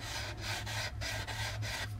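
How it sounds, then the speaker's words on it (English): The top of a plastic AMT U.S.S. Enterprise model kit part is sanded in steady back-and-forth strokes, about six rasping passes at an even rhythm, close and fairly quiet with no voices. "we're sanding the top to conform to the bottom"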